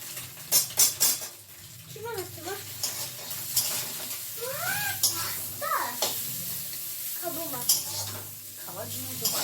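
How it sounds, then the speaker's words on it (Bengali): A shrew squeaks in a home kitchen while potatoes fry, giving short bursts of high, rising-and-falling chirps over a constant sizzle and stirring clatter, with a person talking nearby. "এই দেখো ছুঁচোটা এসে গেছে"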